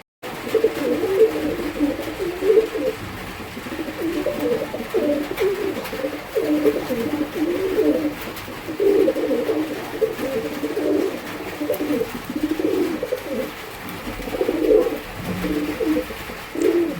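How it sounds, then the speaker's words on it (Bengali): Domestic pigeons of a Bengali flying breed coo continuously and close by, with throaty, repeated calls that rise and fall over steady background hiss and no talking. "মাদি পায়রাটা ছেড়ে দিলাম আপনারা দেখুন আর পাশেরটা হচ্ছে নর"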